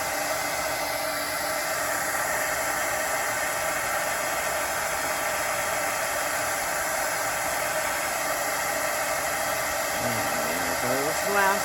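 Heat tool blowing hot air to emboss a card: a continuous loud, steady airy whoosh held close for the whole stretch, with a faint pitch wobble near the end.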